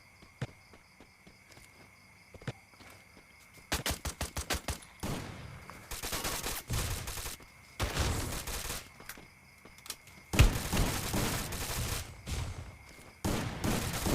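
Shotgun blasts in Free Fire, long-barrel close-range play: quiet stretch with a few isolated shots, then rapid volleys of loud, close gunfire in clustered bursts, no voices heard.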